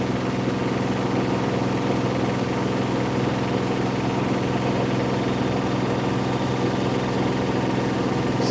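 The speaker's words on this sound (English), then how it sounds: "This one I believe is a very underrated motor. It doesn't sound like it's spinning as fast as it is." A washing machine motor spins with a steady, droning hum and a constant mechanical whir, heard close and even throughout with no talking.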